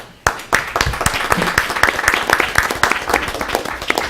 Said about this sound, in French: Alors, félicitations, on vous applaudit.